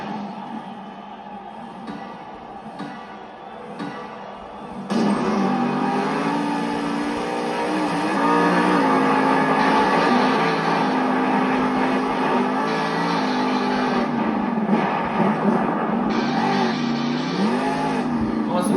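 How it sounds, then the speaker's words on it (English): Grave Digger monster truck, driven out of Kill Devil Hills, North Carolina, spins a donut at a Monster Jam arena show in Glendale, Arizona: a big engine roars loud and steady with revving swells, after a quieter rumble at the start, crowd noise beneath. "Donut to kick off the run out here for Adam Anderson"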